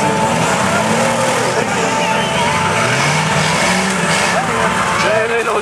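Several race cars at an autocross event in Saint-Henri, including a Peugeot 205 with four-cylinder engines, roar continuously and loudly as they race, with engines revving and passing. A commentator's voice runs underneath the din.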